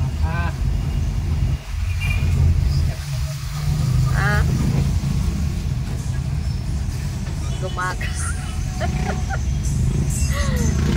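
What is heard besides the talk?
heavy road traffic in town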